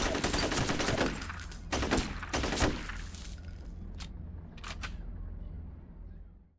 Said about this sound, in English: G2A2 assault rifle.